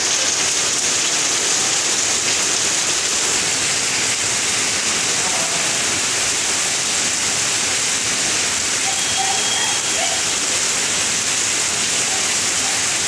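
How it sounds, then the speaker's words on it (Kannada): Heavy rain pours down in Hubballi, a steady dense hiss of downpour that holds evenly loud for the whole stretch, with no voices over it. "ಹುಬ್ಬಳ್ಳಿಯಲ್ಲಿ ವರುಣನ ಆರ್ಭಟ ಹೆಚ್ಚಾಗಿದ್ದು ಸುಮಾರು 1 ಗಂಟೆಗೂ ಅಧಿಕ ಕಾಲ ಮಳೆಯಾಗಿದೆ."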